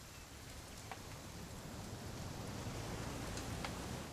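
Rain in the What Remains of Edith Finch game, a soft steady hiss of rainfall with a few faint drop ticks, quiet and even throughout with no voices.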